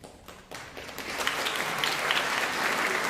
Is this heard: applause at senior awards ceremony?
yes